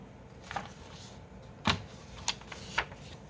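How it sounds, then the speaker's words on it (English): Shears snip a paper insert for a junk journal in a few quick, crisp cuts, close and fairly quiet, with the sharpest snips coming in the second half. "Just cut a little shear off."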